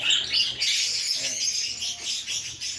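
Breeding birds housed in individual and colony cages chirp and chatter continuously in a dense, close, fairly loud chorus with occasional squawks.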